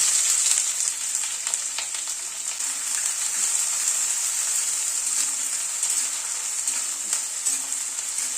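Chopped onions frying in oil on a medium flame over a fenugreek seed tempering for a chicken dish, a steady close bright sizzle with faint stirring scrapes throughout and no talk.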